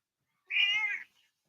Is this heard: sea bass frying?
no